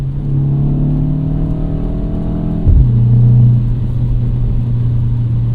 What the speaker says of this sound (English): Downshift that a couple times.